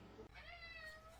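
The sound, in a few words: cat meowing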